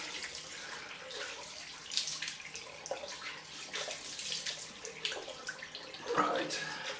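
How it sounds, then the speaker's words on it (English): Cold water runs steadily from a tap into a sink while rinsing after a wet shave, a close gurgling stream with splashes and a few louder surges, fairly quiet throughout. "Nice cold water."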